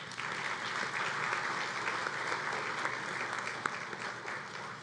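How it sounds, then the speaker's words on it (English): A conference audience applauds at a closing ceremony, dense, even clapping from a large crowd that holds steady for several seconds. "applause to you"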